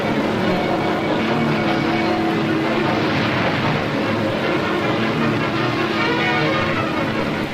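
Motorboats racing through a cypress forest swamp, a dense, loud and continuous engine roar mixed with rushing water and wind, steady throughout with no breaks, like an old newsreel soundtrack.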